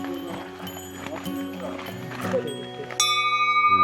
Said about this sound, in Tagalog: Bear bell.